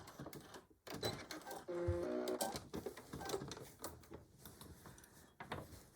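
A sewing machine back-stitches the seam of a fabric beach or diaper bag in short, halting bursts of rapid clatter, stopping and restarting several times close by.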